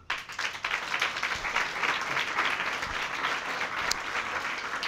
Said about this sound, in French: les 100 meilleurs qui vont se signaler en s'applaudissant très fort